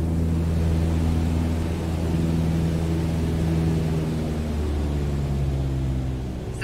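Small aircraft engine in Flight Simulator 2020 after all power is cut, a steady low drone with droning harmonics and broadband wind noise, continuous and fairly loud, slightly fading toward the end, no talking.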